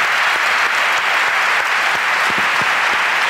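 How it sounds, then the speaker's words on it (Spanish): Loud, dense applause from a podcast audience fills the whole stretch, a continuous wash of many hands clapping close to the microphone with no voices on top. "Aplauso para la ruina de Miguel Maldonado, por favor"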